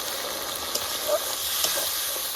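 Steady sizzling from a pan of fried peas and paneer after a small splash of water is added, a continuous hiss with a few faint pops, no voices.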